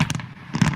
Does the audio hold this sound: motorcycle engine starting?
no